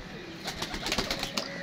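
A pigeon coos on a rooftop, soft repeated throaty calls close by over faint background noise.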